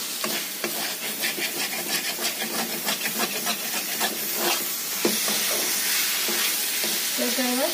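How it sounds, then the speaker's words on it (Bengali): Marinated meat fries loudly in a pan, a close, dense crackling sizzle with a pulsing rhythm that turns into a fuller, steady hiss partway through. "এবার এর মধ্যে এই যে ম্যারিনেট করে রেখে দিয়েছিলাম মাংসটা ওটা দিয়ে দেবো।"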